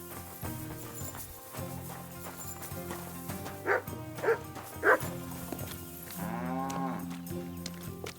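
Dog in the medieval video game Kingdom Come: Deliverance II barking three times in quick succession over layered in-game ambience and music, followed by a drawn-out whining howl.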